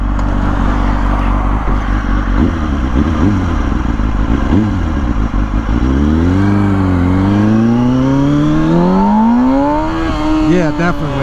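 A 2006 Kawasaki Ninja ZX-6R 636 motorcycle, heard close and loud, blipping its throttle a few times, then pulling hard in first gear with a rising engine whine; a rider talks over it.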